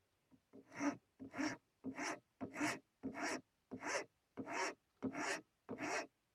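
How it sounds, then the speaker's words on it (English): A file rasps across a wooden carving blade in nine steady, evenly spaced strokes, close and fairly quiet, each a short scraping push. "gradually supporting it and filing down to the cylindrical"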